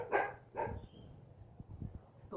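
A dog barks twice in quick succession close by, the sharp yaps followed by quieter low rustling and faint movement sounds.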